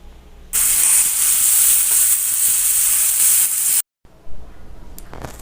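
Spice masala frying in a pan for an aubergine dish, a loud, dense, continuous sizzle with stirring scrapes that cuts off abruptly, then quieter frying and a few clattering stirs resume, close up.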